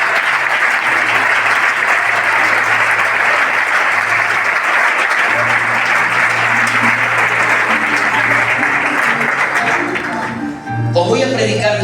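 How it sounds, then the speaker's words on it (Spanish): Sustained, loud applause from an audience at a youth church meeting in Vallecas, a dense wash of clapping running nearly the whole time before breaking off, with a low steady tone beneath it and a voice cutting in at the close. "Denle el mejor aplauso que tengan a la palabra del Señor"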